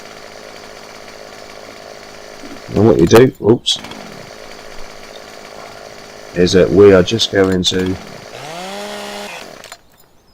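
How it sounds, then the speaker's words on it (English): A chainsaw cuts a tree in Farming Simulator 17. It revs in a steady, rising whine near the end, with someone talking in bursts before it. "Now we need the chainsaw."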